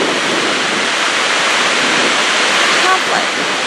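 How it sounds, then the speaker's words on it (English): A massive waterfall in Alaska, seen from a cruise ship near a glacier, gives a steady, loud broadband roar that holds unbroken for a few seconds, with no talk over it. "That's how massive the waterfall is."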